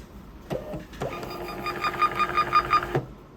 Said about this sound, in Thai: รอบนี้ผมจะพิมพ์ 2ชุดแล้วกันนะครับ กดสั่งพิมพ์นะครับ